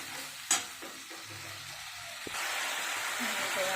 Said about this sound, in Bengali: পেঁয়াজ আদা রসুন আদা বাটা জিরে গুঁড়ো কাশ্মীর দিয়ে মশলাটা কষে নেব